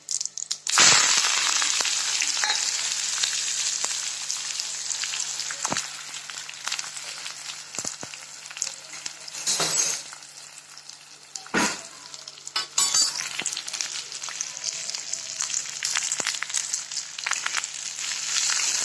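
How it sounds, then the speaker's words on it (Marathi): Onion, cumin and curry leaves sizzle and crackle in hot oil in a kadhai, a steady loud frying hiss with occasional stirring scrapes and pops throughout. "कांदा चांगला भाजून घ्यायचा"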